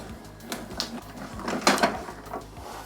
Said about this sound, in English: put your cutting mat on top and feed it through the machine